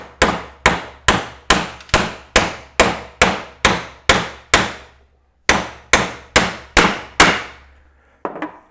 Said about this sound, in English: with just a rubber mallet, we're going to go ahead and just tap that star nut into place